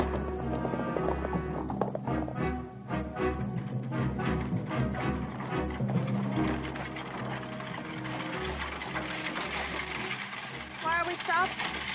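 Horse hooves clip-clopping in a classic western scene, a run of sharp rhythmic knocks over several seconds mixed with creaking wagon or harness mechanics and a background music score, ending with a faint whinny-like trill.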